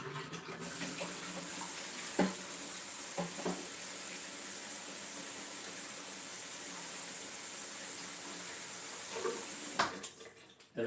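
Water pours steadily into a layered density tower poured over dish soap, a continuous soft hiss and trickle running for about ten seconds with a few faint knocks, close and moderately quiet.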